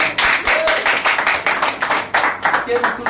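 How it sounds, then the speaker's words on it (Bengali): Audience at a business seminar clapping for newcomers, a dense burst of many hands in quick uneven rhythm, loud and close, with voices mixed in. "নতুন ভাইদের জন্য বেশি করে করতালি দেন"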